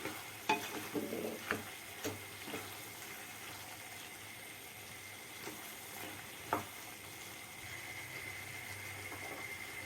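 Turkish mıkla stirred in a pan with red pepper powder, sizzling softly as a spoon scrapes and clatters against the pan in several sharp knocks, with a gentle frying hiss running underneath.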